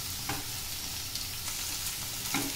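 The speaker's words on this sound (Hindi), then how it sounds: "अब हम इसमें थोड़ा सा हल्दी यहाँ भी डाल देंगे ताकि कलर आए उसके अंदर, और इसको अच्छे से मिक्स करेंगे।" Onions with turmeric frying in a pan, stirred with a spatula, a continuous sizzle broken by a few scraping strokes of stirring.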